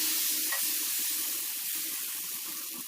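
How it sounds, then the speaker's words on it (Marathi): Dhirde batter spread on a hot griddle gives a steady, loud hissing sizzle that stays constant throughout, with faint scraping and tapping underneath. "तर अगदी त्याच पद्धतीनं आपल्याला हे बॅटर तव्यावरती घालायचं आहे"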